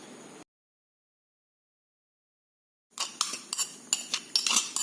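A spoon clinks and scrapes against a metal pot while stirring ground cardamom and cumin in, a quick series of bright taps and knocks after a brief silence.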